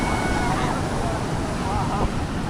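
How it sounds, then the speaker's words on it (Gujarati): Sea waves surge and break at Somnath beach in Gujarat, a loud continuous wash of surf with wind buffeting the microphone throughout. "દરિયાનો અવાજ એટલો બધો છે ને કે વાત જ જવા દો"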